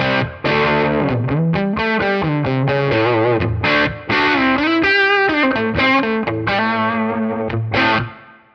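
Electric guitar played through a Tonex capture of a cranked Marshall JTM-style amp and cab, thick distorted chords and sustained bent notes ringing out loudly and continuously for several seconds, with no speech.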